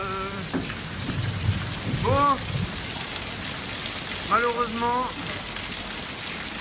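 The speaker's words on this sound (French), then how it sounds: "tempête" Heavy rain from a storm pelting down on a flat roofing job site, a dense continuous patter with low rumbling underneath, while people talk briefly over it.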